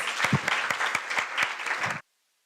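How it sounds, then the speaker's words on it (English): Audience applause at a law clinic launch event, steady dense clapping from a crowd for about two seconds, then stopping abruptly into silence. "A round of applause, please."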